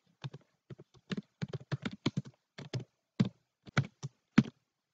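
A name typed on a computer keyboard: about two dozen distinct key taps in uneven bursts, close and clear, with no voices.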